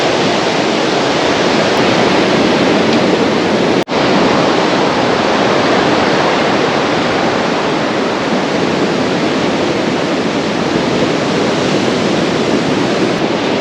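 Ocean waves break on the beach at Byron Bay in a continuous loud roar of surf, broad and unbroken, with wind buffeting the microphone and no voices.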